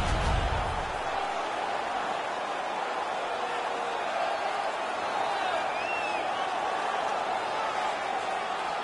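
Steady, loud arena crowd roar at a hockey game in NHL 19, a Winnipeg Jets versus Los Angeles Kings matchup, a dense continuous wash of cheering that holds its level throughout with faint whistles on top.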